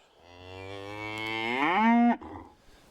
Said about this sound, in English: You are a miserable cow, ain't you?